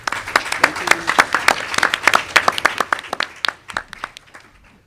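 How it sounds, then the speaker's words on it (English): Audience applause for a panel at a discussion event, a burst of many hands clapping that peaks early and then thins out, with a few scattered claps trailing away to near silence by the end. "Let's give everyone a round of applause."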